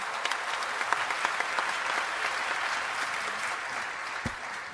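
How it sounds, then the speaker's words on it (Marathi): An audience at a cultural program of classical singing claps in a steady, dense round of applause that stays strong throughout, with the crowd heard fairly near. "एकदा जोरदार त्यांच्यासाठी टाळ्या होऊन जाईल"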